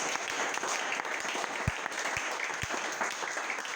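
Church congregation applauding together, a dense steady wash of clapping from many hands filling the space, with a few louder individual claps standing out near the middle.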